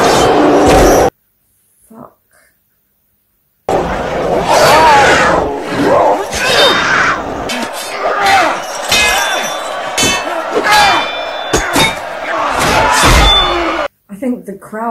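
A loud arena crowd roars and shouts amid clashing, thudding gladiator fight impacts in the film Gladiator (2000), with voices talking over it and brief silent gaps.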